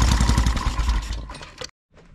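A small 5hp go-kart engine primed with starting fluid sputters and chugs in a rapid loud rhythm for over a second, then falters and cuts out to silence before faint noise resumes.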